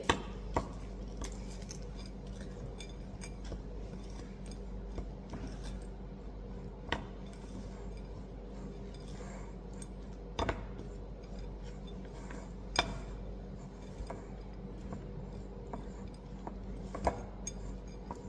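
Chocolate chips being stirred into a thick, powdery banana protein cake batter with eggs: quiet scraping with scattered sharp clinks and taps of the utensil against the bowl.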